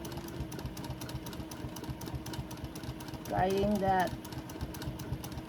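Sewing machine running steadily through free-motion thread painting stitches, a fast even mechanical chatter throughout, with a person talking over it.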